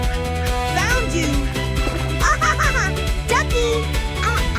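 Ducks quack repeatedly during a chaotic catch on a flooded farm, the calls close and loud over busy background music, with a child-like voice chattering in between.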